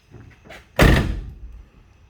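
A second-generation Pontiac Trans Am's door, freshly rehung on a car under restoration in a garage, shuts with one solid, close thunk after a couple of faint handling clicks.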